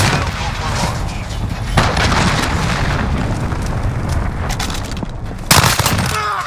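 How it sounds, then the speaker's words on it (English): Cruise missile explosions in Call of Duty: Modern Warfare, a dense, loud wash of booming blasts and gunfire rumbling continuously, with a sharper burst near the end. "Enemy cruise missile incoming!"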